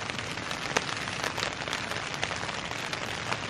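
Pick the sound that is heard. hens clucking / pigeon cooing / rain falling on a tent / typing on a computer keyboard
rain falling on a tent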